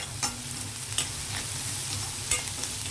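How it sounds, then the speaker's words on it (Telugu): Onions frying in a pan for a village-style brinjal curry, giving a steady close sizzle with a few sharp scrapes of stirring spaced through it and no voices. "ఇవి చక్కగా వేగే చూసారా ఉల్లిపాయలు"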